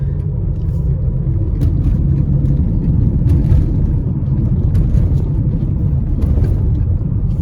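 A car being driven on a dirt road toward San Juan del Sur, with a steady loud rumble of tires and engine plus faint rattles and bumps throughout.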